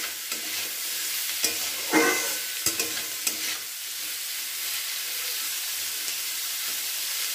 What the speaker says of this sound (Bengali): দিয়ে এটাকে খুব ভালো করে নাড়াচাড়া করে ভালো করে এটাকে ভাজা ভাজা করে নেব।